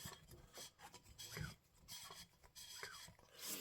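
Brand-new piston rings rasp against the cylinder wall of a STIHL 026 chainsaw as the top end is installed, giving a repeated close scraping, filing sound in short uneven strokes.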